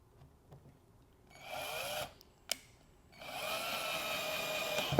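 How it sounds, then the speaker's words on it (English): A power drill drives three screws, with two sustained whirring bursts of a second or so each, a short sharp click between them, and another long steady run at the end, loud and close with no talking. "So now let's get those 3 screws in."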